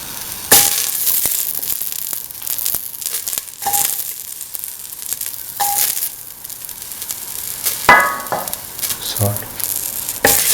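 Shallots, ginger and garlic frying in a pan for a kidney bean and tomato coconut stew, with continuous close sizzling and repeated scraping and stirring clatter of a spoon against the pan.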